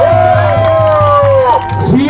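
A crowd at an election-fraud protest rally in Korea cheers and shouts loudly, a dense roar of voices with a long rising and falling wail cutting through, plus rhythmic thumping underneath.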